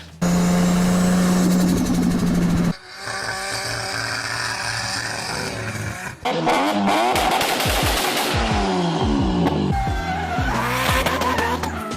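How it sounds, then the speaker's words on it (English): Nissan S14 with a moulded widebody kit, engine revving hard and loud with sustained high-pitched harmonics, drops in pitch between pulls and a rising, squealing run of revs near the close, no talking. "So here are some beautiful car noises for your troubles."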